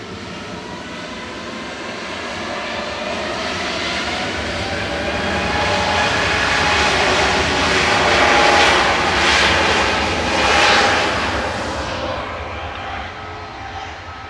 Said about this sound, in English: This is flight 949 departing in front of us